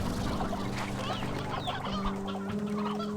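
Game hens in Slime Rancher 2 cluck repeatedly in short bursts over sustained background music, moderately quiet and with no talking.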